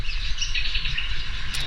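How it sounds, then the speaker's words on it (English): Many birds call and chirp continuously from a flowering tree overhead in a tropical setting, a dense, steady chorus of bright twittering with no talk. "So many birds up above it."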